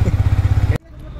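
A Yamaha R15 motorcycle engine, running again after sitting unused for six months, chugs close by in an even rhythmic pulse and then cuts off abruptly, leaving near silence.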